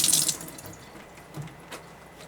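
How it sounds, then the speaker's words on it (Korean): Running tap water rinses a peeled onion at a kitchen sink. It starts as a brief close splash, then drops to faint trickling and a few soft drips. "먹기 직전에 껍질을 벗겨 흐르는 물에 씻어 사용하면 됩니다."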